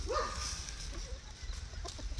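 A backyard chicken gives a few short clucks close by, over a low steady background hum.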